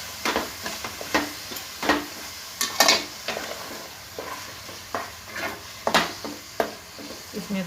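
Minced meat (keema) cooks in a pan for biryani, with a steady sizzle under repeated scraping and clattering strokes of a spoon stirring at an irregular pace, close and fairly loud.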